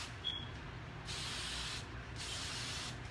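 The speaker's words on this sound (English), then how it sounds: "but I sprayed it all the way down here" An aerosol spray can hisses in two sustained bursts while coating a Halloween pumpkin stacker decoration, each spray lasting close up and fairly loud over quiet room noise.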